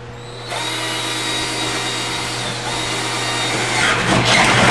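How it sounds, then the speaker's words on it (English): A power drill whirs continuously at close range, a steady motorized whine that intensifies as it bites into a kayak hull, drilling a 1-inch hole. "Just mark the center of this and then drill a 1 inch hole."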